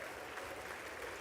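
Applause from an audience at a State of the Union address, a faint, distant wash of clapping sustained through the moment.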